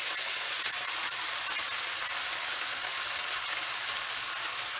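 Ground potatoes frying in a pan, a steady broadband sizzle that holds at an even level throughout with no talk.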